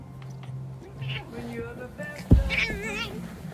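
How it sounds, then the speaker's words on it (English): A cat meows several times in a wavering, complaining tone near a baby, with a sudden thump partway through and people talking softly in the background. "Cat just scratched him."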